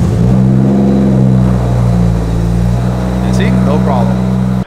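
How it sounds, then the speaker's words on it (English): A BMW 335 engine starts up and settles into a steady, loud low rumble with a strong drone at idle. The sound continues for several seconds close to the listener, with a brief higher mechanical whine near the end. "All right, I'm gonna go ahead and start up the car."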